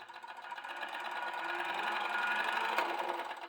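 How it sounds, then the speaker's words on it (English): The first Kodak 16mm cine camera, hand-cranked, with a mechanism dating to about 1896, whirs steadily with a fast mechanical rattle that swells slightly as it runs, close and moderately quiet, with no talking. "So this is the first 16mm camera by Kodak, hand crank."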